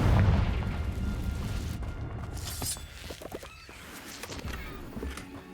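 A Confringo blasting spell detonates in Hogwarts Legacy on PS5: a heavy low boom at the start, followed by shattering debris and scattered sharp impacts that fade into quieter clatter.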